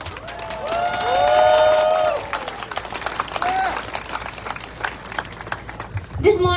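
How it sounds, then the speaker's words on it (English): Rally crowd in New York City claps and cheers with a swell of applause that fades into scattered clapping and shouts, mixed with whistles and a voice near the end. "Give yourself a round of applause for that."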